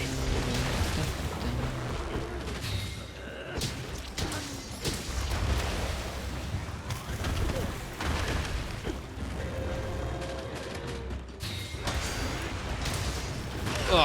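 Explosions from Bazelgeuse in Monster Hunter, booming blasts and crashes scattered through a busy hunt over steady game noise, with a voice talking over them.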